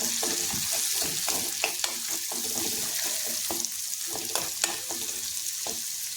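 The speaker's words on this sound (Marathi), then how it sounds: "तेल त्याच्यामध्ये आपण आता भाजून घेणार आहे थोडासा हा मसाला परत एकदा" Leftover masala roasting in a spoonful of oil, close crackling sizzle with frequent quick spoon scrapes and taps in an uneven rhythm, steady throughout with no talking.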